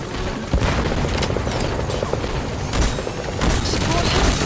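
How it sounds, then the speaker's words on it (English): Support helicopter arriving in Metal Gear Solid V: The Phantom Pain, its rotor thudding steadily and close, with bursts of gunfire and blasts cutting through and radio voices underneath. "support helicopter has arrived"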